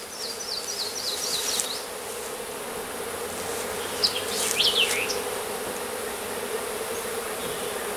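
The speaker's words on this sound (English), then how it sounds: "Oh, bees." Honeybees buzz around a hive in a steady, moderately loud drone, with individual bees swooping close past now and then and no talking.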